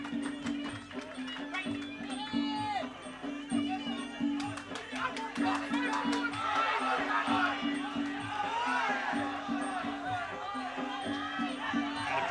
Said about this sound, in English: Crowd here in Melbourne just loving this.